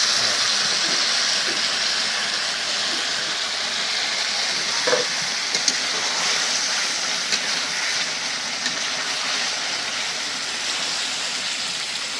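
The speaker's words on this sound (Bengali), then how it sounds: "মশলার সাথে একটু কষাই নিই" Fish, fish head and vegetables fry with spices in a pan, giving a steady, loud hiss and sizzle that runs unbroken for several seconds with a few faint knocks.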